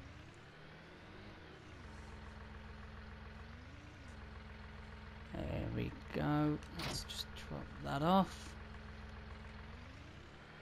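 Tractor engine idling in Farming Simulator 19, a steady low drone running throughout, with someone talking over it in the middle of the clip.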